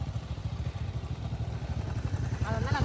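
A motorbike struggles through soft beach sand at Seethapalem Beach in Visakhapatnam, its mid-pitched engine chugging and rattling steadily and close by, with a voice calling out near the end.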